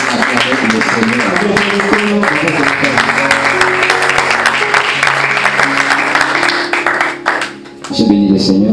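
Church congregation acclaiming the Lord with sustained applause and cheering that fills the room, with sung or voiced tones running underneath, dipping briefly near the end before swelling again.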